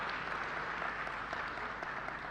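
A seminar audience applauds steadily, dense clapping from many hands sustained evenly throughout at moderate distance.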